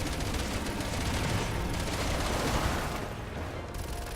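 Sustained rapid gunfire from shooting in Resident Evil 6, a dense, loud barrage lasting the whole stretch and easing slightly near the end, with no talk over it.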